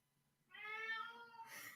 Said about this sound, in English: That's cats fighting is what that is.